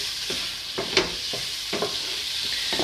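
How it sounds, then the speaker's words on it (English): A spoon scraping and stirring through food frying in a pan, several distinct knocks and scrapes over a constant hissing sizzle, close and fairly quiet. "I left the spoon in there because I'm going to need to stir that here in just a minute"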